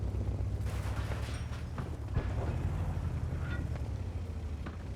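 T-103 tank gun fire in World of Tanks, several sharp cracks spaced irregularly over a low, constant engine rumble, with faint clanks between shots and no speech.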